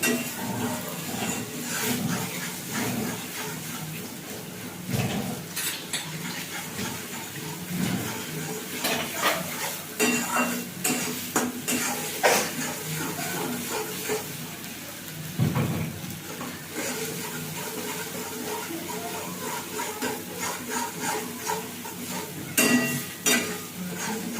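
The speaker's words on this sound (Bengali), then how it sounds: "তেলের উপরে এটা ভালো করে নেড়ে দিতে হবে।" Bean mash being stirred in hot oil in a village kitchen, a spoon scraping and knocking against the pan in irregular strokes over a steady close sizzle, with no talking.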